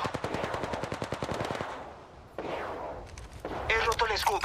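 Rapid automatic weapon fire in the video game Apex Legends, a fast burst of shots for about a second and a half, then scattered impacts and effects, with in-game character voice lines in between.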